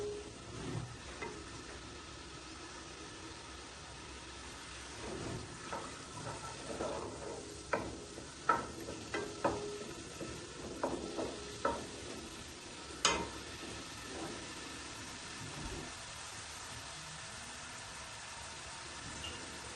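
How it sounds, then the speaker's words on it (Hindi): Mixed vegetable sabzi stirred in a pan, soft scraping and clinking of a spoon over a low steady background, with a cluster of sharper knocks midway. "थोड़ी देर के लिए इसको मैं इसमें मिक्स करती हूँ।"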